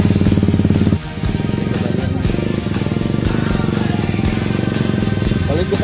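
A motorcycle bogged down and stuck in the ground revs its engine hard and close, a loud, steady drone that runs the whole time with only a brief dip near the start. Faint voices may sit beneath it.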